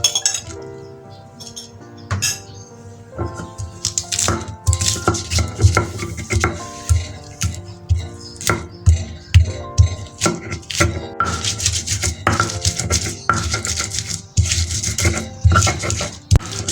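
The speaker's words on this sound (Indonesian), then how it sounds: "untuk pertama kita ulek dulu" A pestle pounds garlic in a mortar for a chili sambal with anchovies, giving a steady run of close, sharp knocks and clinks in an uneven rhythm.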